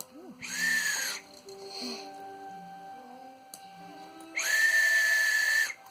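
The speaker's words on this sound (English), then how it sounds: "It's a whistle. Sounds like someone screaming on live camera." Two loud, shrill toy whistle blasts, each held about a second, separated by quieter squeaky tones and a soft pause.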